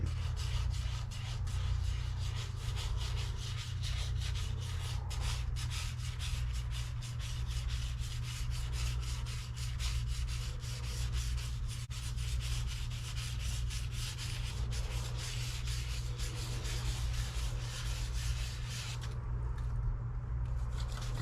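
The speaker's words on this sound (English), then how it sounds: "Very lightly sand it in." A wooden Enfield rifle stock being sanded very lightly by hand, a soft continuous rubbing scrape with a steady back-and-forth texture, close and quiet, with no talking.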